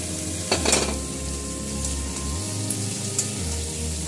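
Spice paste for a jackfruit and prawn curry sizzles and fries in a pan, a steady hiss with a few scraping stirs and a soft clink of the spoon near the start, close and continuous.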